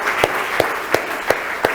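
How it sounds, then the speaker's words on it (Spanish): An audience at a church sermon claps in a broad, sustained wash of applause, punctuated by a few evenly spaced louder claps, fairly close and loud throughout. "denle un aplauso más que bueno"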